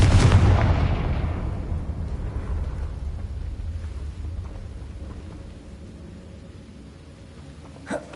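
A Confringo fire spell explodes in Hogwarts Legacy, a loud booming burst that rumbles and fades slowly over several seconds, with no voices.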